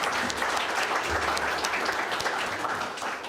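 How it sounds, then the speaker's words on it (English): Conference audience applauding in a hall, a dense continuous wash of clapping at steady strong level for a few seconds, with no talk over it. "I think this deserves an applause."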